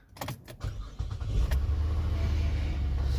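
A Buick LaCrosse car engine cranks and catches near 1.5 seconds, after a few short clicks, then settles into a steady low idle rumble close by with no talking.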